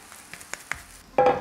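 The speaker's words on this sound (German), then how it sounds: "die Pfanne nicht auf volle Pulle, sondern wenn das Öl heiß ist, runterstellen, dass die Dinger langsam vor sich hin braten" Vegan zucchini fritters frying in hot oil in a pan over reduced heat, a few soft ticks and pops followed by a brief louder burst of sizzling.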